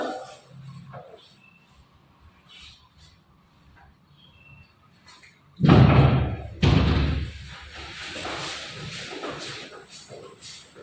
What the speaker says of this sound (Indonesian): Menutup pintu.